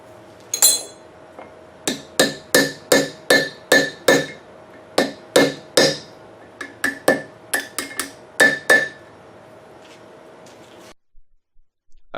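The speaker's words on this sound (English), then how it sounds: "End up using a chisel to punch a hole real quick" A chisel is struck by a hammer to punch a hole for an Italian rapier dagger handle, a steady series of about twenty sharp metallic blows, close and ringing, in an even rhythm with short breaks.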